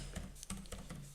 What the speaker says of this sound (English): I'm typing this in because I can't multitask